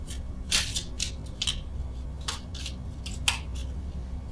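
Tarot cards are shuffled in a series of short, crisp riffling bursts with brief pauses, close and fairly quiet.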